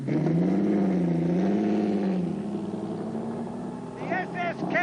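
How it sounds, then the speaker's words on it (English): A 1920s Mercedes SSK sports car engine drones with a wavering, revving pitch, then fades back under a narrator's voice as a second voice joins near the end. "This thunderous machine was among the fastest sports cars of its day"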